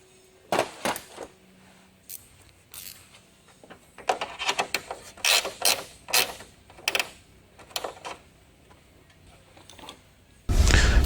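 A ratchet tightens bolts on a cold air intake for a 2019 Dodge Challenger Hellcat, giving a series of quick clicking bursts, close and moderately loud, with short pauses between, and a louder thud or bump at the very end.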